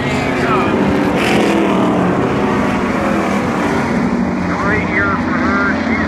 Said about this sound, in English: That 96 car was coming, wheeling through.